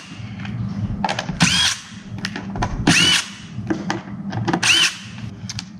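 A power drill removes screws from the feet of a hard lid in three short, whining bursts. Quieter clicks and handling knocks fill the gaps between them.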